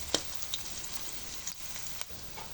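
Garlic frying in a pan until golden brown, a quiet steady sizzle with scattered sharp pops and crackles close by, no voices.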